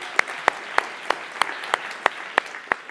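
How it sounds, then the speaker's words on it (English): A conference audience in San Francisco claps in sharp, evenly spaced beats, about nine crisp claps in three seconds, moderately loud against a quiet room with no talking. "So a big round of applause for these guys."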